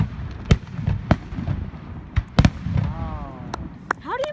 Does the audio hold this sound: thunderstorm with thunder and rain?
no